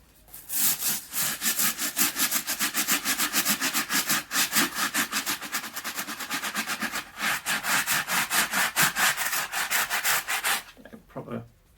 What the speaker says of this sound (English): And then the stiff brush for the soles